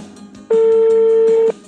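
A phone call being placed in a comedy ghost-exorcism scene: a single loud, steady electronic tone holds for about a second, standing alone between soft background sounds.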